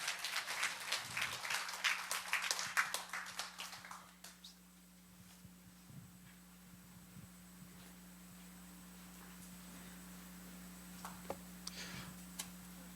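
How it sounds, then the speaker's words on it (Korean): A church congregation at a Sunday service claps to welcome a visiting missionary preacher; sharp, crowded clapping for about four seconds dies away into a quiet room with a low hum and a few faint stray taps. "박수로 환영하시겠습니다"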